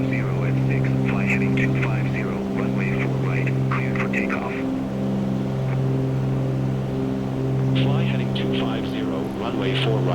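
Steady airliner engine drone in Microsoft Flight Simulator 2024, a sustained tonal hum with whining harmonics holding level throughout, overlaid by radio chatter and someone talking.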